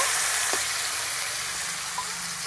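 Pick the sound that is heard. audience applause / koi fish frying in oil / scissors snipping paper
koi fish frying in oil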